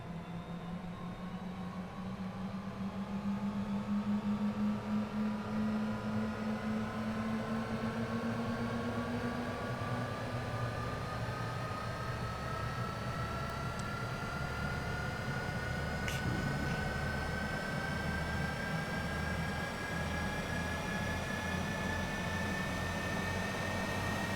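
Cessna Citation CJ4 jet engines in Microsoft Flight Simulator spool up at Teuge, Netherlands, a steady whine sliding slowly upward in pitch over a low rumble, rising at the start then holding loud and even, with no talk.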